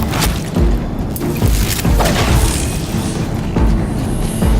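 Deathbringer war machines fire on a bridge in Horizon Zero Dawn: repeated heavy booms and thudding impacts land every second or so over a loud, dense rumble, with no voices.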